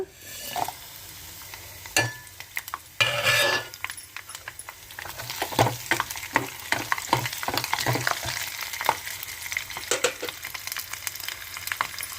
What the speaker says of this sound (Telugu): ఆయిల్ వేడవింది పోపులు వేసుకుందాం వెల్లుల్లిపాయ కరివేపాకు జీలకర్ర ఆవాలు